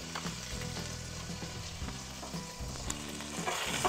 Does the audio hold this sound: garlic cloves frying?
yes